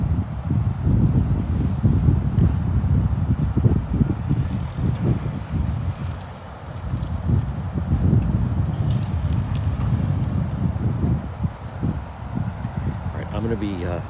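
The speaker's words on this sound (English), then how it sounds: "That is really wow, what a windy day." Strong wind in Cranston, Rhode Island buffets the microphone in heavy low rumbling gusts that continue almost without pause, with faint rustling in the background.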